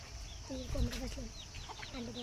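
Domestic country hens on a village poultry farm, with clucks and short calls in several bursts over a low background rumble, one brief loud knock partway through.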